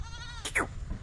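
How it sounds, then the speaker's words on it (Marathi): A single goat bleats once, short and wavering, amid the low rumble of a farmyard as goats and kids are let out of their shed. "ही शेळी आहे बघा."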